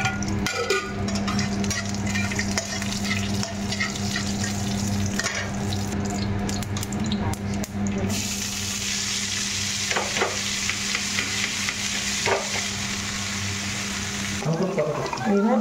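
Cauliflower fries in oil in a pan alongside greens and fish for a katla curry, a loud continuous sizzle with stirring scrapes up close, brightening midway as more goes into the pan, a voice speaking occasionally.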